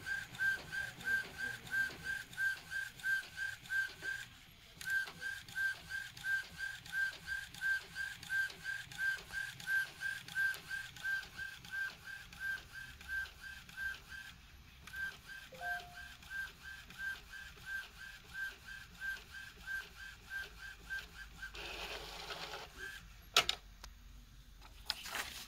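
Epson XP15000 inkjet printer printing on A4 paper, rhythmic mechanical passes of the print head shuttling back and forth with a whirring tone, brief pauses, and paper-feed clicks near the end.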